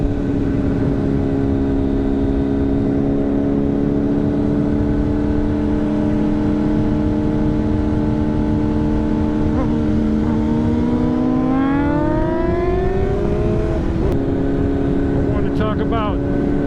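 Sport motorcycles cruising city streets, engines droning steadily throughout with a rising rev partway through and a couple of sharper throttle blips near the end, loud and close.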